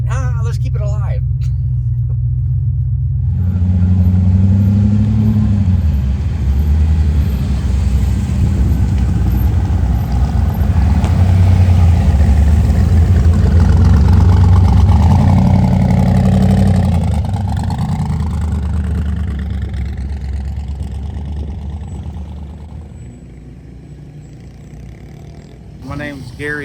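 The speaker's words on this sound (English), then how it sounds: "It's a 1955 Bel Air. So it's a LS twin turbo deal, street car." A 1955 Chevrolet Bel Air street car with a twin-turbo LS engine idles and rumbles nearby with a deep, steady throb and a few shifts in pitch, while someone talks over it at a drag racing event.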